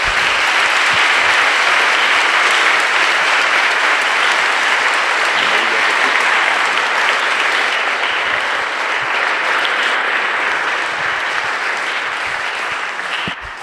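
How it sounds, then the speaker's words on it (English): Dense, sustained audience applause at a conference on innovation, AI and the metaverse, loud and even for the whole stretch before tapering slightly at the end. "Another applause, please."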